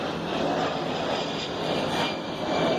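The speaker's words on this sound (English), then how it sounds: "A-10s from the Air Force Base, doing a couple runs." Steady broadband roar of A-10 military jets flying over from a nearby Air Force base, sustained and fairly loud throughout with slight swells, no voices.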